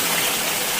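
Boiling water pours steadily into semolina for mango kesari, a loud continuous rushing splash with no break over its short length.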